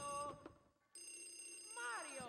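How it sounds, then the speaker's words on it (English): A telephone rings in the Luigi's Mansion video game, a steady electronic trill holding through most of the moment after a brief gap, with a short spoken sound near the start. "This is the final phone ringing over here."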